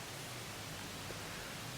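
Steady, broadband wind noise rushes across the microphone at a property in St James, Barbados, a constant roar with no other distinct sounds.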